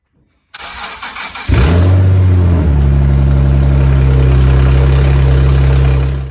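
A Nissan 370Z engine cranks and starts, then settles into a loud, steady idle with a raspy, puffing exhaust rumble from a blown exhaust manifold gasket.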